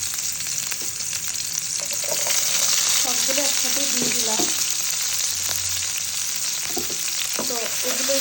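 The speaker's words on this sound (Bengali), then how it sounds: "তেলটা কিন্তু ফুটে আসছে, তো আমি শুরুতেই রসুন কুচিগুলো দিয়ে দিচ্ছি।" Chopped garlic frying in hot, bubbling oil in a pan gives a steady, loud sizzle throughout, with occasional stirring scrapes and someone speaking briefly over it.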